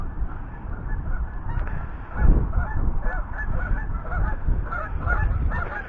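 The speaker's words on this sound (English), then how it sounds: "There's a lot of geese here all the time" Geese honking repeatedly, a loose chorus of calls from several birds at moderate distance over a low rumble of wind or water.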